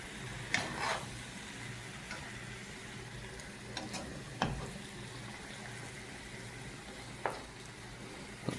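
Sweet and spicy Thai-style pork and vegetables stir-frying in a pan, with a soft steady sizzle and a few sharp clatters from stirring and tossing, fairly quiet and with no speech.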